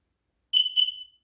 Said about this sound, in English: you guys can hear my old smoke alarm still turning on.